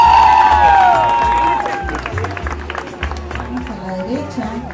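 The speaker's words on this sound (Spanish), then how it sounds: "Fuerte los aplausos." A crowd of young kindergarten children cheers and claps at a patriotic marathon event, with loud shouts and excited voices over a busy, fluctuating background of applause.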